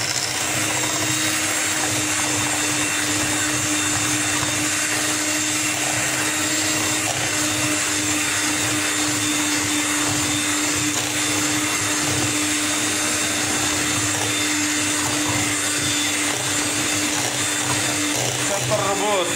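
Electric mixer whipping eggs and sugar for a homemade crème caramel, a steady continuous motor whir running unbroken throughout, fairly loud with a faint voice talking underneath.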